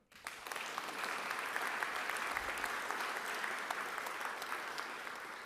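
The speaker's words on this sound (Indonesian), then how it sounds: "Ini kita harus tepuk tangan." A hall audience at the opening of the ASEAN Business and Investment Summit 2023 bursts into clapping, rising quickly to a full, sustained roar of many hands that holds steady and fairly distant before easing slightly at the end.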